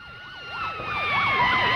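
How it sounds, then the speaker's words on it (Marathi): A police car siren wails close by, its steady up-and-down sweep repeating several times and growing slightly louder. "पोलिसांची गाडी पण आली."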